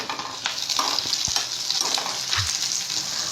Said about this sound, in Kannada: ಈಗ ಕಟ್ ಮಾಡಿಟ್ಟಿದ್ದ ಟೊಮ್ಯಾಟೊ ಪೀಸಸ್ ಎಲ್ಲ ಮಿಕ್ಸ್ ಮಾಡೋಣ